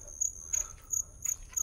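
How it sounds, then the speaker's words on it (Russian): Crickets chirp at night on a country plot, a high, bright trill in regular short pulses over a faint low background, with no talking. "Сверчки как хорошо"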